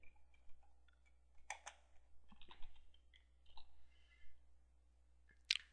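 Short bursts of computer keyboard typing, quiet and close, with clusters of key clicks separated by pauses and a louder click near the end.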